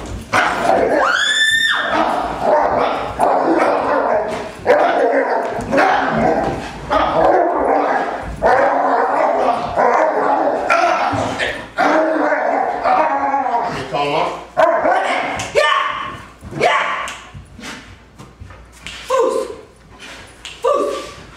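A protection dog barks repeatedly during training, loud, close and in irregular bursts with some yips and whines, while people talk over and between the barks.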